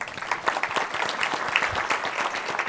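An audience at a higher-education conference panel applauds a panelist, a steady patter of many hands clapping at moderate loudness for a few seconds.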